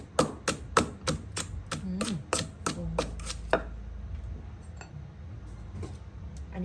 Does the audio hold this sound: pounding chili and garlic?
yes